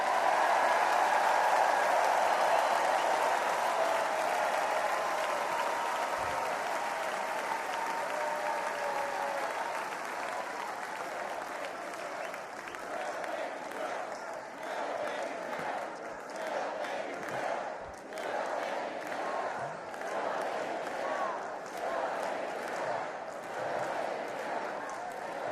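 A large crowd at the Republican National Convention applauds and cheers loudly and continuously, a dense roar of clapping that stays strong throughout and swells with scattered shouts in the later half.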